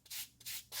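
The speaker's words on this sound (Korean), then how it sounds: "이 사포로 해서 단면을 먼저 다듬어 줘야 됩니다." Leather edge rubbed with 400-grit sandpaper, three strokes that rasp one after another, close and fairly quiet with no voices.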